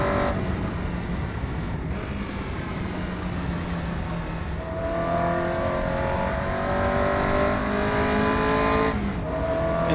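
A Caterham race car engine in the rFactor2 racing sim, lapping Castle Combe, revs near 7,000 RPM with a loud, steady, buzzing drone whose pitch climbs and shifts through the gears, with no talk.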